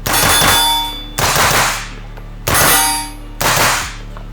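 Four loud, sharp reports from a suppressed Daniel Defense 9mm pistol-caliber carbine with a blowback action, each a ringing metallic crack with a short decaying tail, fired at an uneven pace close by.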